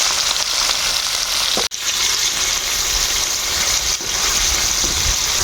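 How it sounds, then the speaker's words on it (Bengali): Paneer pieces fry in hot oil in a pan, giving a steady, close, even sizzling hiss with a single brief break near the start and faint occasional pops. "ওই তেলতে আমরা পনিরগুলো ভাজি নেব"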